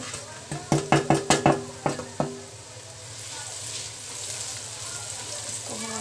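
A metal spoon clanks repeatedly against a pan as onions and spices are stirred for lauki sabzi, giving a quick burst of about eight loud knocks. A faint, steady sizzle continues alone afterward.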